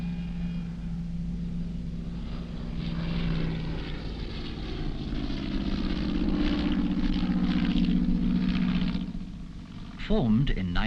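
Propeller aircraft of the Rothmans Aerobatic Team fly a display at the 1972 Air Day near Wycombe Air Park, with a steady droning engine hum that swells and fades as the planes pass, heard from a distance.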